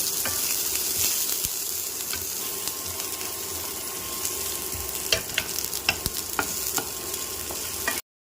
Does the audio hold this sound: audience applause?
no